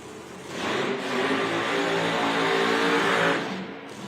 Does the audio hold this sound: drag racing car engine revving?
yes